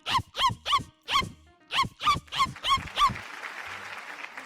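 A mimicry artist on a Malayalam TV show imitates a dog with his voice, giving nine rhythmic barks in quick succession before they give way to a burst of audience applause.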